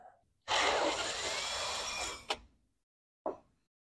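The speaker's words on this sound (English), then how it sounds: "We've got to drill this out, A quarter inch drill bit." A power drill with a quarter-inch bit whirs at high speed for about two seconds, then winds down, followed by two short clicks or bumps; close and loud.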